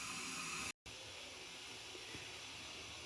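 A steady hiss of water heating toward a boil for cooking rice, continuous and fairly close, with one brief dropout near the start.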